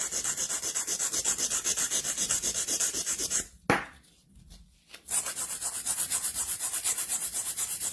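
A coarse-grit nail file rubs back and forth shaping sculpted gel nails, a steady rapid rasping that fills the clip except for a brief pause with a sharp tap in the middle, close and fairly loud.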